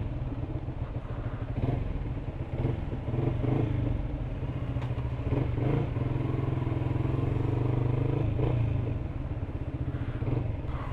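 A Yamaha MT-125 motorcycle engine idles and rumbles steadily with a low throaty exhaust, occasional clatter and rising revs, close by and continuous throughout.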